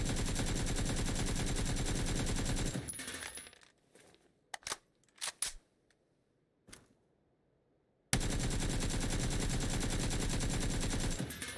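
Gunfire in PUBG played on a console: a handful of sharp shots in brief bursts stand alone in a quiet gap between loud sustained sections of game sound.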